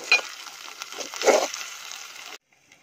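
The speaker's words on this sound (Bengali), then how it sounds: "তো আমি এই শিদল মিক্স মরিচটা অনেকক্ষণ ভাজবো, যতক্ষণ না পর্যন্ত একটু পড়া পড়া ফ্লেভার হচ্ছে।" Chili mixed with shidol fermented fish frying in a pan while bamboo shoots are cooked in a forest setting: a close crackling sizzle with a few stir clicks that cuts off near the end, no speech.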